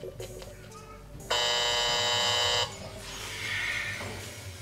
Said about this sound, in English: See, the lie detector clearly said you were lying.